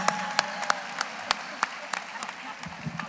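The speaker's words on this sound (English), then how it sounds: "I'll clap for you." Applause at a school district operations convocation: scattered, sparse clapping with distinct individual sharp claps at an uneven rhythm over a murmuring crowd, fading toward the end.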